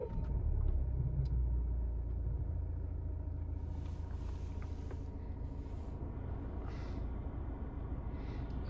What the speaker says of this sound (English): So let's start it up and check if the start-stop function remembers its last setting.